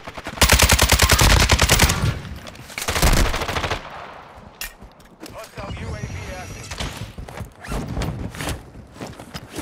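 Rapid bursts of automatic gunfire in a shooter video game, very loud and dense at first, then a second burst, followed by scattered shots, clanks and mechanical game sounds.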